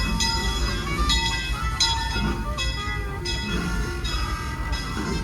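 A Disneyland Railroad steam train rolls into New Orleans Square with continuous rumbling and clanking, with metallic squeals and bell-like rings over the top.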